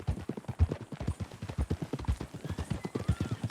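Rhythmic horse hooves clip-clopping at a steady walking pace in Red Dead Redemption 2, close and clear for several seconds with a faint snort or whinny near the end.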